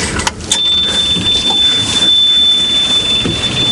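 A car engine cranks and catches after a burnt fuse is put back in, a brief starter whine and then a loud, rough running rumble close by, with a thin high whine laid over it.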